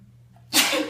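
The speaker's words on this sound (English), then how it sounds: "excuse me, sneezing" A single sharp human sneeze bursts out after a quiet intake of breath, close and loud, with a short airy tail.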